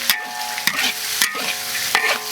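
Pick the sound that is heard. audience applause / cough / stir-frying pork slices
stir-frying pork slices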